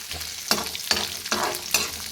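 Garlic sautéing in a pan for chutney, a soft continuous sizzle with four rhythmic scraping stirs of a spatula, close up and with no talking.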